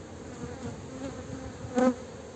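Dense, steady buzzing of many honeybees close by at a hive, with one louder bee droning past near the end.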